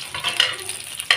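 Garlic frying in a pan while cooking chicken adobo, giving a short, fairly quiet sizzle with a few brief stirring scrapes and one sharper clatter near the end, no voices.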